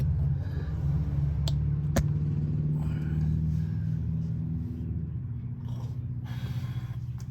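A restored 1987 Toro Proline walk-behind mower engine runs at a steady idle, a continuous low rumble with a couple of brief clicks on top.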